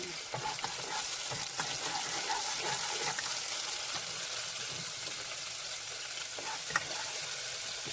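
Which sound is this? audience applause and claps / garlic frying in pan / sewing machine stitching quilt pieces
garlic frying in pan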